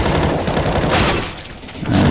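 Rapid gunfire in a professional CS:GO match on the Dust 2 map at FACEIT London 2018, a dense burst of loud shots filling the clip, busy and continuous with crowd-like wash behind it.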